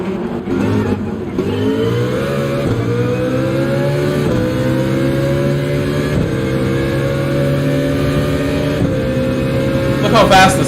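Mercedes Gr.2 race car in Gran Turismo 7 at Sardegna, a loud, sustained engine drone with tones climbing steadily through the gears, close and continuous, with a brief higher burst near the end.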